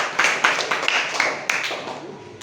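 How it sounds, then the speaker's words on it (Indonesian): A classroom of students claps hands together in a short, uneven burst of applause, fairly close and moderately loud, with a voice speaking over the clapping. "ya kasih tepuk tangan"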